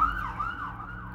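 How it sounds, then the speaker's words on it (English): A wailing emergency siren rises and falls steadily in the distance over low traffic rumble, with no talking. "Pardon the siren."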